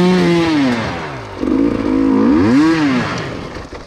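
An enduro motorcycle engine revs loud and close, rising and falling in pitch through several throttle blips, with a rough mechanical rattle running under it.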